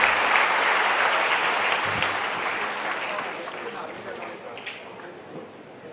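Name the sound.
audience applause at conference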